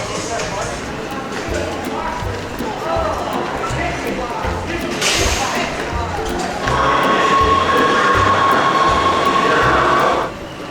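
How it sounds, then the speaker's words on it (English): A Los Angeles Metro subway train rumbles along with rhythmic wheel clatter, then a high metallic squeal rises as it rolls, with faint voices in the car. "And then left to go on the metro."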